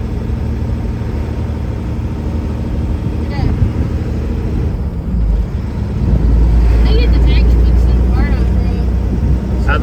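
A Mack truck engine idling and running, a loud, close, continuous low rumble that swells heavier partway through, with people talking faintly over it.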